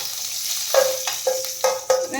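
Garlic frying in hot oil in a pan, a steady close sizzle with four rhythmic scrapes of a spoon stirring through it, and no talking.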